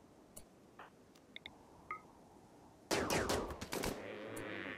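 Rimworld hunters on an ice sheet open fire on fleeing Megasloths: a few faint clicks and blips give way to a sudden loud volley of rapid, close gunshots, several cracks in quick succession over a lingering noisy tail.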